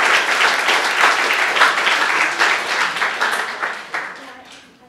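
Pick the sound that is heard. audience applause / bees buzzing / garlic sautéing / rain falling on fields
audience applause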